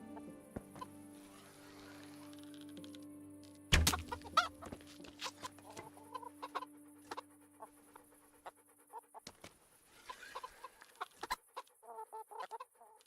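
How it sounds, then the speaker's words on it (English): Chickens cluck in scattered, faint bursts in the medieval game Kingdom Come: Deliverance, with a dog's panting and sharp clicks and thuds from the game mixed in. "But weren't there chickens? There were chickens."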